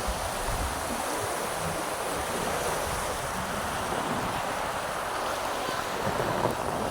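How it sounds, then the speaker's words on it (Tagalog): Strong ocean waves surge onto a beach in a dense, continuous roar of surf and wind, loud and unbroken throughout. "Lakas na nakaalon, no?"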